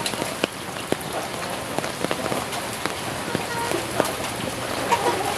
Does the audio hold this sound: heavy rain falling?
yes